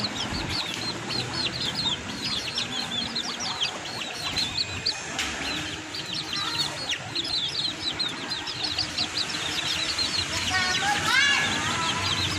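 Chickens clucking and chattering busily in a farmyard, many overlapping calls with occasional wing flaps and voices in the background.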